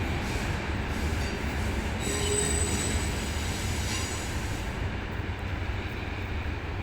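Thai diesel locomotive 4507, just down from Krung Thep Aphiwat Central Station, rolls past with a steady heavy rumble and a thin metallic wheel squeal rising briefly in the middle.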